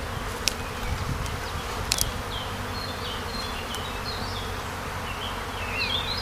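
A honeybee swarm being hived into a small nucleus box, with bees at the entrance fanning their wings; a steady, moderately quiet buzzing hum with a few brief sharp ticks near the start.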